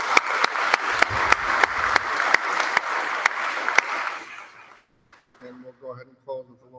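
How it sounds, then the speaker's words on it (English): Audience at a meeting applauding, a sustained round of clapping with sharp individual claps standing out, fading away after about four seconds before a voice begins speaking. "let's have another round of applause for Mallory and Sarah."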